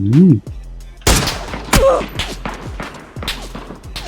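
Gunfire in the battle-royale shooter PUBG: several sharp shots and bursts crack out near and loud after a brief tone, with rattling echoes trailing between them.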